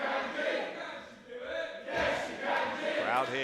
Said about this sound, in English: Crowd here in Chandler Hall trying to get on the side.